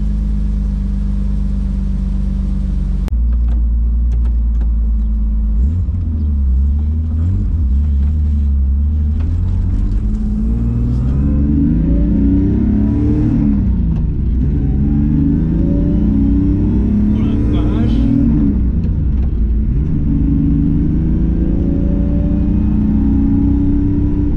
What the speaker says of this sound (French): Bon, je vais la mettre dehors et on va essayer de la filmer un peu au soleil.